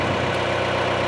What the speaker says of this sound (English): we'll let the tractor warm up there for a bit